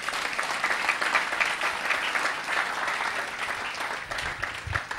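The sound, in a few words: congregation applauding in church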